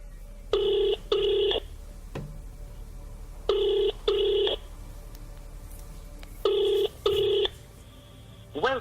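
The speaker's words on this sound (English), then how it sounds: "So let's give him a call" A phone call rings out through a handset: three pairs of double ring tones in a steady repeating rhythm, clear and fairly loud against a quiet line, with a faint voice stirring at the very end.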